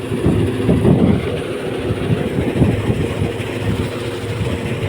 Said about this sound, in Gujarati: JCB loader tractor.